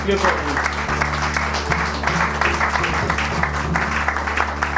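A church congregation applauds loudly and steadily throughout, dense clapping over a droning low musical hum with voices mixed in.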